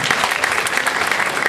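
Steady applause from a live concert audience for the singer, dense continuous clapping throughout at even loudness, no voices over it.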